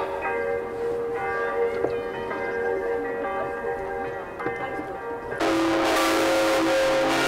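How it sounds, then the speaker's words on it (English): Bells ring inside the tower of the Church of Our Saviour in Copenhagen, sustained overlapping tones heard close, growing much louder and brighter near the end. "those bells were really loud"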